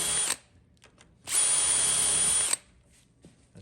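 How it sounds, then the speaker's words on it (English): A power drill fitted with a self-centering bit bores hinge holes in a slab door: a brief opening whir, a pause, then a longer loud high-pitched spin of about a second that stops abruptly. "we're gonna go ahead and put our holes in for our hinges. He has a self-centering bit right there."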